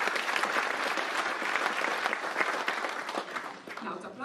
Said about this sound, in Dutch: Nou, het applaus heeft je vast binnen.